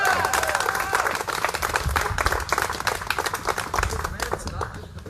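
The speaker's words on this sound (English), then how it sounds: "let's clap for that" Protest crowd outside Tim Scott's house clapping in scattered, uneven bursts while a speaker keeps talking over the applause.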